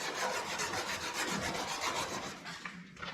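A car part is hand-sanded in straight lines along its length during custom side marker and backup light work on an M-1 Cobra, giving a steady, close rasping scrape of regular back-and-forth strokes with no talking.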